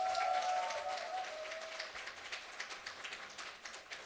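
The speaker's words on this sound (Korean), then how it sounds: "다시 한번 감사의 박수 부탁드립니다" Audience applause at a business lecture, a steady wash of many hands clapping that starts strong and gradually thins out, with scattered individual claps toward the end and no voices over it.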